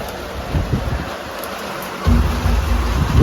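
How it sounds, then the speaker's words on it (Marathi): Heavy rain with thunder during a storm, pouring steadily with a deeper low rumble building and swelling louder in the second half, no voices. "पावसाने गॅलरी भरली माझी"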